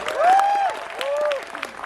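An audience applauds at a Kochi stage event with Kamal Haasan, a sustained wash of clapping that swells and stays fairly loud, with a voice carrying over it.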